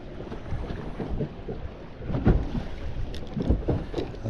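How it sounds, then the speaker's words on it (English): Strong gusty wind, around 40 mph, sweeps across a Texas lake while someone fishes from a boat: a loud, constant roaring rumble with heavier buffeting gusts, and no voices. "this wind is just absolutely crazy"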